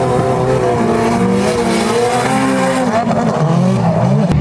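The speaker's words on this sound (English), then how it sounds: "one of the other cars testing here today is this EJ1 Honda Civic Coupe" An EJ1 Honda Civic Coupe race car testing at a drift park in Kerry, its engine droning loud and steady with shifting revs throughout, with a hint of tire squeal.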